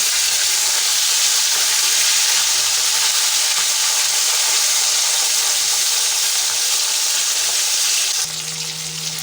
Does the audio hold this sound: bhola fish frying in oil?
yes